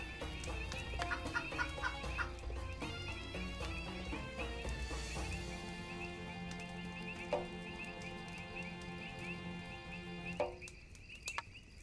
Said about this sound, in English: Oh, look, there's chickens.